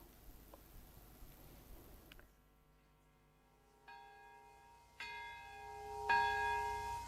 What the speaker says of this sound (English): Twin cathedral bells rang in unison Saturday in Japan's Nagasaki